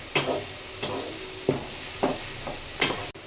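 Onions sauté in a pan for an egg masala gravy, with a soft sizzle underneath and a spatula scraping in regular strokes about every half second, close and with no talk.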